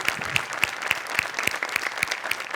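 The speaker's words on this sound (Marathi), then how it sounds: "एकदा जोरदार टाळ्या पुन्हा एकदा." Studio audience applause at a Marathi comedy show: dense, sustained clapping from a crowd, loud and fairly close, with steady rhythmic accents running through it.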